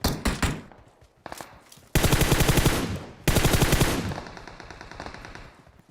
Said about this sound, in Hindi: पीछे से गोलियां चल रही थी